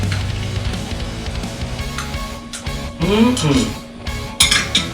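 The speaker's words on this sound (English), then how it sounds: "top it up and give it a little stir" A bar spoon stirs a cherry lime bourbon cola cocktail over ice, giving close clinks and rattling of ice against the glass, with a few sharper knocks near the end.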